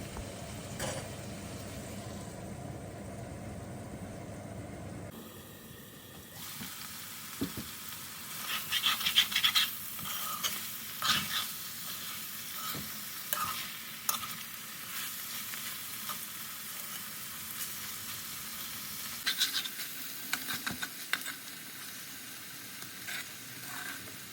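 Fish roe thoran with curry leaves cooking in a pan: after a few seconds of background noise, a low continuous sizzle with intermittent scraping and stirring scratches of a spoon against the pan, fairly close.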